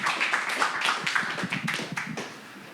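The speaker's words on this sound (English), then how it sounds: "Big round of applause for Thomas." Scattered clapping from a lightning-talk audience, a cluster of uneven claps that thins out and fades toward the end, fairly quiet overall.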